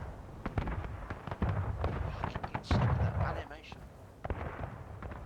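Muzzle-loading cannons boom in an outdoor artillery battery competition, heard as several loud reports, including a big blast around the middle, while a commentator talks over them throughout.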